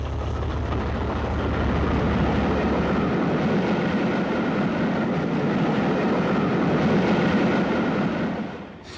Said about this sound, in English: A Class 40 stands at Greenford with a parcels train bound for the Midland.